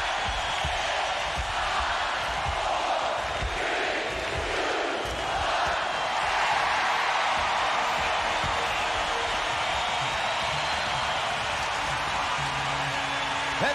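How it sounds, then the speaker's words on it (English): A 1991 Stanley Cup Final arena crowd in Pittsburgh roars after the Penguins beat the Minnesota North Stars, a sustained loud wash of cheering and whoops that swells and holds throughout. "I'm going to let the crowd finish this one for you"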